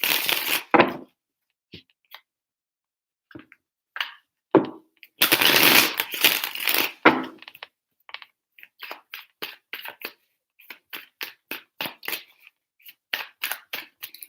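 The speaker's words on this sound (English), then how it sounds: "Three shuffles for Virgo and their person." A deck of tarot cards being shuffled by hand, heard as bursts of papery riffling and sharp snapping clicks separated by short silences, with quicker, lighter flicks toward the end.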